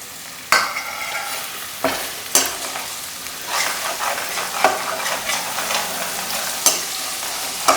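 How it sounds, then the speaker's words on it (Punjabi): Garlic and ginger fry in a pan on a medium gas flame, with steady sizzling broken up by repeated sharp scrapes and knocks from a stirring spoon. The stirring strokes come at irregular intervals, close and fairly loud. "ਇਹਨੂੰ ਵੀ ਪਾ ਦਿੰਦੇ ਆ ਤਾਂ ਕਿ ਇਹ ਵੀ ਚੰਗੀ ਤਰ੍ਹਾਂ ਅਦਰਕ ਦੇ ਨਾਲ ਭੁੰਨੀ ਜਾਏਗਾ"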